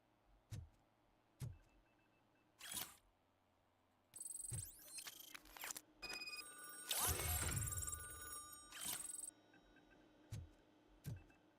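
In RoboCop: Rogue City, an in-game telephone rings in a bright electronic burst in the middle stretch, flanked by sparse low thuds and clicks before and after.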